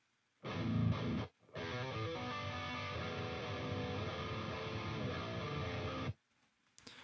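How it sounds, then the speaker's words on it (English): Heavily distorted metal electric guitar played through a Marshall 1960 cabinet amp simulation plugin, a short chord burst then a sustained riff of about five seconds, loud and dense, ending abruptly into quiet. "this is what the Marshall sounds like"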